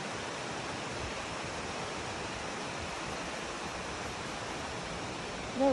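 Strong wind sweeps through an ancient woodland, a steady broadband roar with no distinct gusts, constant and fairly loud, ending in a brief bump at the close.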